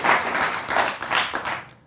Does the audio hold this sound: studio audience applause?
yes